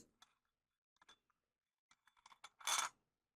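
Crystals shifted around in a bowl, making faint scattered clinks and taps that build into a brief louder rattling cluster near the end, close and quiet, with no talking.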